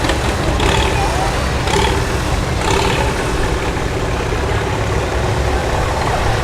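A Farmall tractor with a gutted muffler runs with a rough, low engine rumble at an outdoor festival, heard steadily beneath brief shouts and nearby crowd noise.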